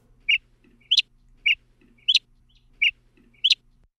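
Northern mockingbird mimicking the long call of a northern flicker, a woodpecker, with the same note repeated at shifted pitches: six sharp, bright call notes in an even rhythm, alternating single and doubled, clear and alone against silence.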